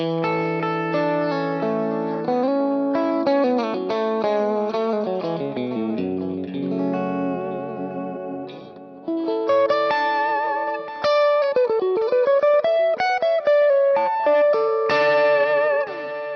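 Electric guitar playing chords and melodic runs through a Dr Z amp profile on a Kemper, Marshall-like tone with mild overdrive and a touch of chorus and reverb, steady and fairly loud, no voices.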